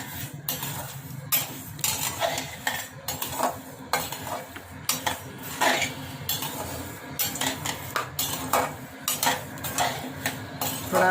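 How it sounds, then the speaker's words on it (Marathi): Coriander and cumin seeds dry roasting in a pan over low heat for chakli flour: a steady run of close metal spoon scrapes and clinks against the pan, with a soft rustle of stirred seeds beneath. "आता हे सगळं आपल्याला मंद गॅसवर भाजून घ्यायचं आहे।"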